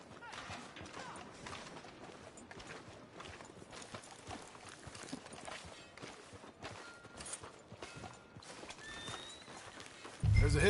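Horse hooves clip-clop steadily on a street in the video game Red Dead Redemption 2, close and fairly quiet, with speech around them.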